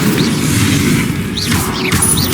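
Incendio fire spell in Hogwarts Legacy, a crackling whoosh of flame with a few bright swooping magical flourishes over a steady rumbling bed, loud and close.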